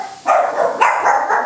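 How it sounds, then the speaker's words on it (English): Excited dogs bark in several quick, loud bursts close by, with yips between them in a busy kitchen. "We got some crazy dogs here."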